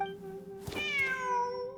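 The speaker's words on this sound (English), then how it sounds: "The cat!" A cat meows in the video game Genshin Impact, a clear drawn-out call rising then falling, heard alone over a steady tonal game backdrop.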